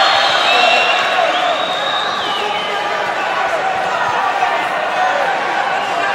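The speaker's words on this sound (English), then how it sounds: "the crowd are giving him some support" A crowd at an M-1 Challenge MMA event roars in steady, continuous support of a fighter, a dense wall of cheering and whoops with a commentator's voice running over it throughout.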